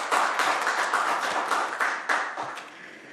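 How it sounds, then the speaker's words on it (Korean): Applause at a council environment and welfare committee meeting, with a room of people clapping steadily for about three seconds before the sound starts to fade. "한 번 더 축하 박수 부탁드립니다."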